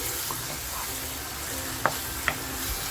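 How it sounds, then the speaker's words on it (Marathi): Masala sizzles in oil for steam-cooked surmai fish curry, a soft steady crackle broken by two sharp scrapes of a spoon stirring in the pan. "असा मसाला फ्राय झालेला आहे"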